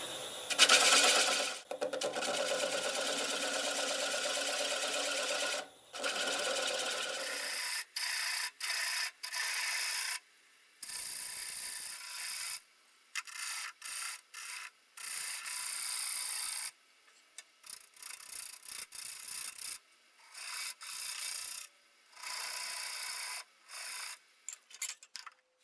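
Half-inch bowl gouge cutting green walnut on a wood lathe spinning near 500 RPM, a loud close rasping hiss in long steady passes that break into shorter choppy cuts, no talking.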